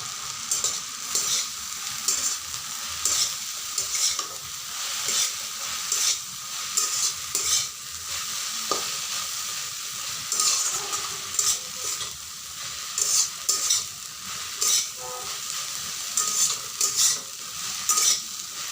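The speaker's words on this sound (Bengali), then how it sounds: "এবারে নাড়াচাড়া করে ভাজতে হবে" Water spinach fries in a pan with a steady sizzle, broken by repeated clattering scrapes of a spatula stirring it, close up and with no voices.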